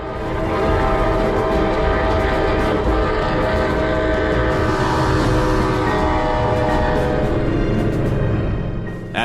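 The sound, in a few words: train approaching a crossing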